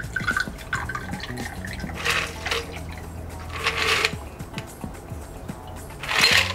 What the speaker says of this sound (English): Pour into the shot glass of your choice.